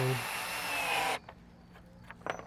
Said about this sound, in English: I'm just making sure that I'm getting these screws in tight enough